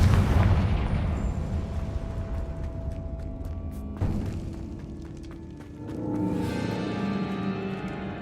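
A Confringo fire spell bursts in Hogwarts Legacy, opening with a loud, close booming blast that rumbles away. A second sharp crack follows midway, then a low rumbling, crackling tail lingers under game ambience, with no talking.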